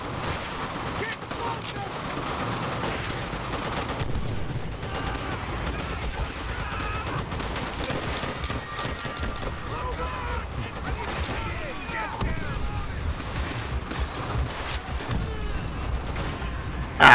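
Call of Duty: World at War gameplay with rapid, continuous gunfire and bursts of automatic weapons over a busy battle background, dense and steady throughout, with a player talking over it at times.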